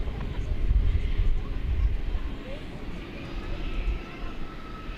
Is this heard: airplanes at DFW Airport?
yes